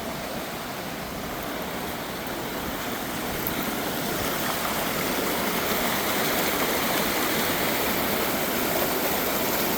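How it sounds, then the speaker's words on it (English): Water pours steadily over a dam on the Spring River at a state fish hatchery, a loud, continuous broadband roar close by that swells slightly over time, with no voices. "And I'll zoom up on the falls."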